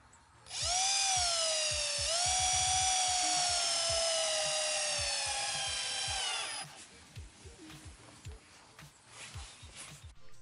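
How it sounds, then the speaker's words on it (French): A cordless power drill drives a hammer-in anchor into a wooden deck frame on concrete pads, one loud steady whirring run of about six seconds, then stopping as quieter handling clatter follows. "Personnellement, je visse la cheville à frapper."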